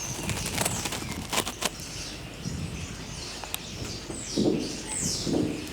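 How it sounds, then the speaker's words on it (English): A pigeon or similar bird flaps off and lands on a high bar in a farmyard, with soft wingbeat bursts against steady outdoor ambience and a few brief knocks. "But one flies to the left and perches in one of the top bars."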